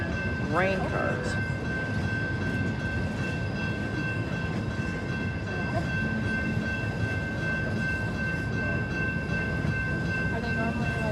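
A freight train hauling grain cars rolls past at night in Plymouth, Michigan, a steady heavy rumble and wheel clatter with a faint tonal whine, while people talk nearby.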